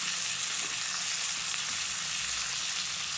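A T-bone steak sears in a hot pan with butter, a loud, dense, continuous sizzle and crackle throughout, with no talking.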